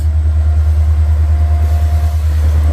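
A steady, loud low rumble runs throughout as a train rolls past nearby at night in Crystal Brook, South Australia, with a faint tonal whine and no voices.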